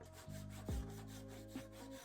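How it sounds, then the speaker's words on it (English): Sandpaper rubbing across wooden legs of a small workbench for a Milwaukee Packout, smoothing the joints: a few close, steady back-and-forth scraping strokes with no voices. "I gave the legs a quick sanding to smooth out the joints"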